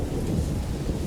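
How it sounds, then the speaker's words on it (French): A lightning strike at bedtime brings a steady, dense rumble of thunder with rain and wind, loud and continuous throughout with no talk. "Alors qu'elle se couchait, la foudre frappa"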